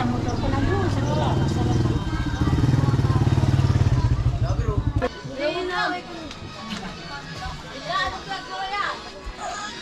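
A motorcycle engine buzzes loudly nearby in a narrow alley in Balintawak, Philippines, for a few seconds and then fades away, while people talk and call out over street noise.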